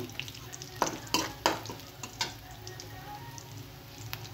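Onion and garlic frying in a pan for a fish dish, a quiet steady sizzle broken by several sharp stirring scrapes in the first half, then settling into a soft continuous fry.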